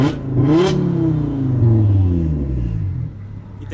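An Audi TT RS with a custom exhaust, turbo and modified manifold revs hard, rising to a peak and then dropping into a deep, rumbling idle that burbles loudly close by.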